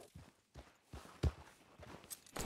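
Horse hooves clop in a slow, uneven walk across the ground in the survival game Rust, soft and fairly close, with one heavier thud midway and no talking.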